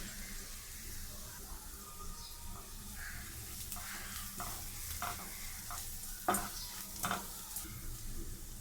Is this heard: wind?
no